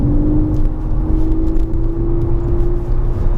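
MK6 VW Golf R accelerating at full throttle in normal mode, a loud, close engine drone with a steadily held tone and low rumble, continuous throughout.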